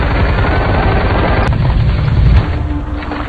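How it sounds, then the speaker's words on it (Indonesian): Sniper rifle and machine gun fire in the war film Sniper White Raven, a loud continuous rumbling barrage of shots and booms throughout, with no talk. "Dengan aba-aba dan tembakan senjata mesin, pasukan sniper Ukraina pun melesatkan tembakannya"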